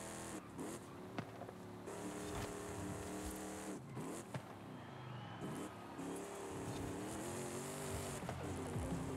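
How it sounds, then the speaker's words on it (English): A V8 engine in Forza Horizon 5, on a 450 hp spec-series car, revs hard through repeated gear changes. Its pitch climbs in sweeps and drops at each shift, loud and continuous. "This does have one of the good sounding V8 notes."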